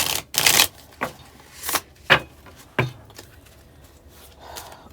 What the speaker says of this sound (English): That was terrible shuffle.